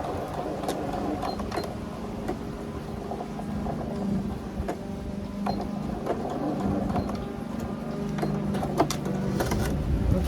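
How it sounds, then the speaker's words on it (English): Domestic sewing machine back tacking and then stitching fabric while a dress is made at home, a steady low mechanical whir with faint clicks running continuously at moderate level. "I'll start it up, back tack it, and then go and sew."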